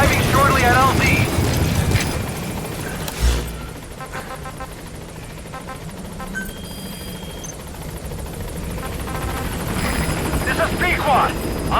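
A helicopter arrives at a landing zone in the video game Metal Gear Solid V, its rotor chop and engine drone running throughout under radio-style game dialogue, with a short thump partway through.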